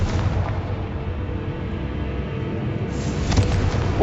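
Confringo fire-blast spell exploding in a Hogwarts video game: a dense, rumbling run of booming blasts with crackling burst noise throughout, swelling louder toward the end, with no voices.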